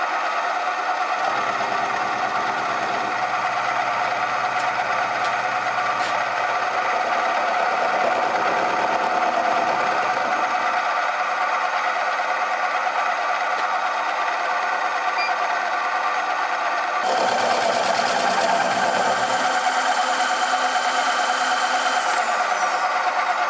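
A carbide insert face mill cuts metal at about 500 RPM, a steady mechanical whine with rhythmic cutting chatter that runs throughout and grows louder and harsher over the last several seconds, with no voices.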